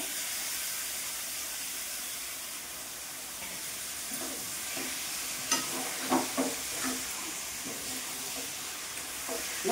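Chicken pieces dropped into a hot pan for a Tirupati-style curry give a steady, close frying hiss. A few louder clattering stirs break through in the second half.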